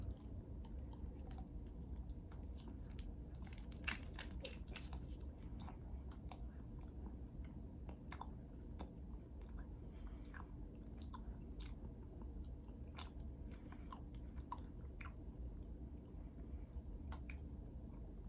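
Someone chewing a Canadian candy bar that resembles a Milky Way, with soft sticky squishes and small bites, faint and close over a low steady hum, with no talking.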